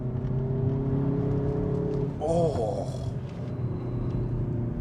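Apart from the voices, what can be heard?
Hyundai i30N hot hatchback driving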